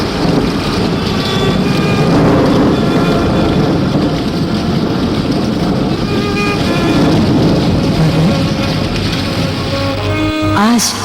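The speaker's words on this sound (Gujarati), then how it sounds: "આ વરસાદ તો અટકવાનું નામ જ નથી લેતો." Heavy rain falls continuously and loudly as a dense, steady wash of noise for the whole stretch, with faint sounds layered underneath and no pause in the downpour.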